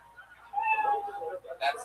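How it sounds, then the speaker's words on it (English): A cat meow sound effect sounding as a time-up signal: one drawn-out, wavering meow near and fairly loud, then a shorter, brighter cry at the end. "you know your 60 seconds is up when you get the sound of a kitty"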